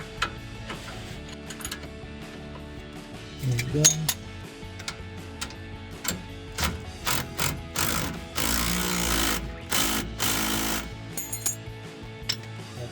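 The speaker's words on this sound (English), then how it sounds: "I'm gonna use the drill." A power drill drives in the bolt of a Belltech street performance rear shock on a 2007-2018 Silverado or Sierra 1500, whirring in several bursts with mechanical clatter between them while someone speaks briefly.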